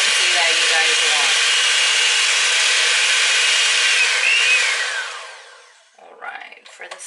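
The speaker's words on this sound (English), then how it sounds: "It's starting to kind of stick to the whisk, and I think that's the consistency that you guys want." Dalgona whipped coffee being whisked fast in a bowl, likely with an electric whisk, a loud continuous whirring buzz that winds down near the end, followed by a few brief scrapes and clatters.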